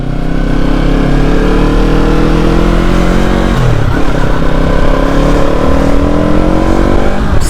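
A motorcycle engine pulls hard under acceleration while riding, a loud close drone whose pitch climbs steadily, drops briefly at a gear change, then rises again, with wind noise and no talking.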